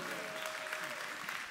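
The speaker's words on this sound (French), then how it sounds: "Bon, applaudissements pour Alain Cacheux." Audience applause at a discussion event about social housing, a steady dense wash of clapping filling the short moment at moderate level with no talk over it.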